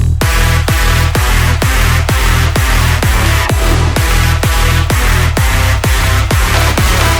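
A pounding big room kick drives an EDM drop, repeating on a steady four-on-the-floor beat beneath dense, loud synths and layered instrumentation that fill the whole mix without pause.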